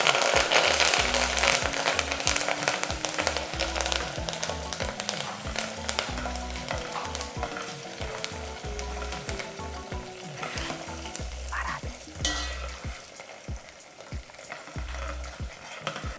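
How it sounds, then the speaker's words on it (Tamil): Mustard seeds, urad dal, dried chillies and curry leaves fry in hot oil for a tadka, giving a loud continuous crackling sizzle with sharp popping bursts and a rhythmic low thudding pulse running underneath throughout. "கடுகு, உளுந்தம்பருப்பு, காஞ்ச மிளகா, கருவேப்பிலை எல்லாம் நல்லா வந்து பொரிஞ்சிருச்சு"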